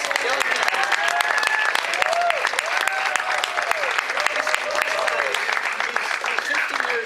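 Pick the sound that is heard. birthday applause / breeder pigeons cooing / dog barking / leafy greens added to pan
birthday applause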